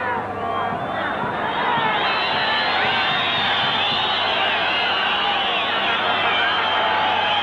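Home crowd at a 1991 Copa America football match between Chile and Peru, with the home side leading 3-1, jeering and murmuring in a loud, continuous stadium roar as a simple back pass goes to the goalkeeper.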